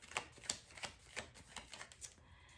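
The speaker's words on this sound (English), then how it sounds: "take deep breaths while I shuffle these cards" Soft riffling and tapping of tarot cards being shuffled, a series of light flicks and slaps at an uneven pace, close and quiet.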